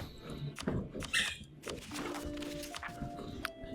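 A dog runs laps on a couch, with a scatter of soft thumps and scuffling, and faint animal noises over a low tonal hum.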